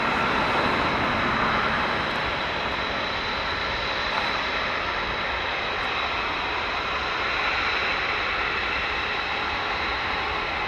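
A fighter jet engine roars continuously and loudly at close range, a dense broadband rumble with a high whine that holds steady and unbroken for the whole stretch, with no voices.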